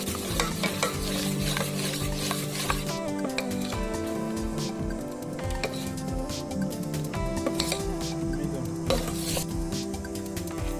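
Eggless biscuit cake batter is stirred by hand at home after a spoon of baking powder is added, giving steady soft scraping and stirring throughout, under continuous background music.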